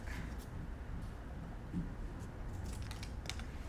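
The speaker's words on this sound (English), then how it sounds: "Just gonna cut that open, just like that." Scissors snip through folded paper while a snowflake is being cut, a few soft, close clicks and slices over a faint background hiss.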